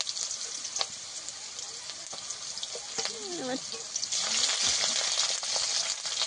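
Cumin and ginger paste frying in hot oil, a steady close sizzle that grows louder and denser partway through, with brief scraping and stirring clinks and a short voice sound over it.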